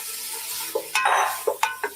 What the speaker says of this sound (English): Ah, you hear the sizzle?